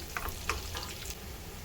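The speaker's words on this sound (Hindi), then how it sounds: "यहाँ पर देसी घी भी गर्म हो गया है, इसमें डालते हैं अब प्याज।" Steady crackling sizzle of onions frying in hot ghee, with a few brief stirring clinks, close and continuous.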